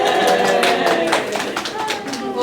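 A lecture-room audience cheers and claps for a guest speaker at a psychology club talk: a continuous wash of overlapping applause with bright voices mixed in, steady and fairly loud for the whole stretch.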